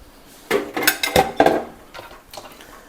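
Bacon, onions and other ingredients drop into a pan, giving a quick cluster of clattering metallic knocks and clinks over about a second, then fading into quieter scraping.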